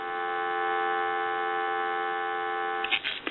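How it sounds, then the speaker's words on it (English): Steady, continuous telephone dial tone from a rotary dial Mickey Mouse phone, clear and unbroken for several seconds before a brief clatter at the end. "Go ahead and give you some dial tone."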